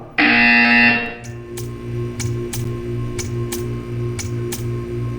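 A buzzer in the video game Portal 2 blares loud and steady for about a second, then a softer repeating electronic pulse ticks along beneath regular bright clicks, with no talk.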